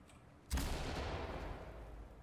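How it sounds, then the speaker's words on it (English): In the game Ready or Not, a flashbang grenade goes off with one sharp, sudden bang that decays into a noisy rumble lasting a couple of seconds, fairly faint overall. "I want them to flashbang it"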